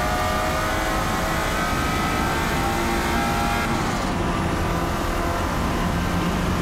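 Lotus Esprit racing in Forza Motorsport at Daytona: a loud, continuous engine roar held at high revs throughout, dense and unbroken with a slight shift in tone midway, no speech.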